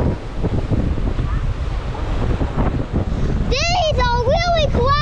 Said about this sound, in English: These are really crashing waves. And in here, it's really windy